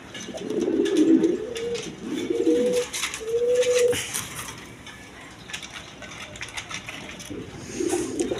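A pair of satin pigeons coo in several rolling, rising-and-falling calls, near and clear, with a mechanical clicking and rattling in the background and no voices.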